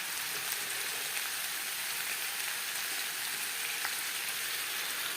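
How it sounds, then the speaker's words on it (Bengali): Potato and pointed gourd fry over medium heat in a pan, giving a steady, soft crackling sizzle that holds evenly throughout, fairly quiet, with no talking. "আলুর সাথে পটলও ভেজে নেব।"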